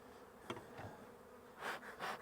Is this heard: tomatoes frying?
no